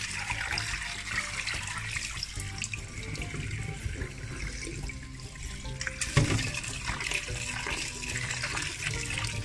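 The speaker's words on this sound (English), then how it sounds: "Wash it until the water is clear." Tap water runs steadily into a sink as Jamaican sea moss is rinsed by hand, a continuous broadband splash with small surges and a brief louder slosh near the end, no voices.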